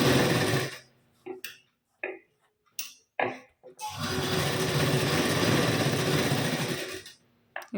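A tailoring sewing machine runs bursts of stitching while joining the lining to a blouse piece, short stop-start runs followed by a steady whirring stretch of about three seconds, close and fairly loud.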